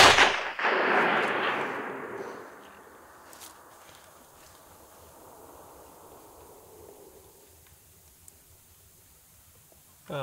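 A single loud rifle shot during a backpacking mule deer hunt, a sharp crack near the start followed by a long rolling echo that fades over several seconds in open country, with faint rustling afterward.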